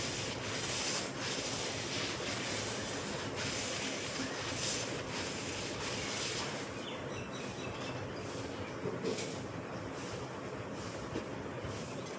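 A cloth rubbed over a floor to spread plaster in an Indian village home, a steady coarse scraping that runs continuously at moderate volume with faint rhythmic strokes.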